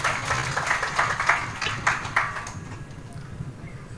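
An audience claps during a Hindi religious katha, a ragged run of hand claps strongest at first and then thinning out and fading.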